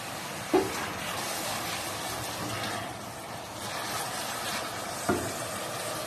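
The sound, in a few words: tomatoes, garlic and onion frying in oil for aloo baingan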